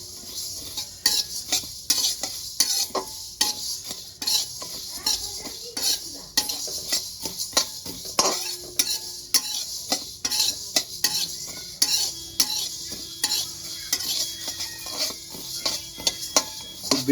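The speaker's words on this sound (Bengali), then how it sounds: "শুকনো খোলায় আমি এরকম করে ভেজে নেব" Spices and chickpeas dry roasting in a pan on low to medium flame, with a steady run of close scraping and clinking stir strokes against the metal and a faint dry crackle underneath, no talking.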